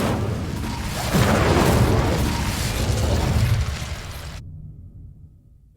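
An Incendio fire spell blasts in Hogwarts Legacy, a loud fiery burst with a rushing whoosh that swells, holds for a few seconds, then cuts off and fades into a low tail.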